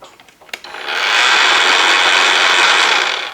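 A Wild Badger 40V cordless earth auger spins up after a few handling clicks and then runs in gear with a steady, loud electric whir that holds level for several seconds, with no voices.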